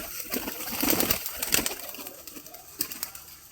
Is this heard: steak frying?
no